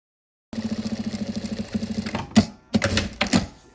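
A sewing machine stitches a quarter-inch seam on a disposable fabric face mask, a close, rhythmic mechanical chatter starting after a moment of silence, then breaking into short irregular bursts with small clunks near the end.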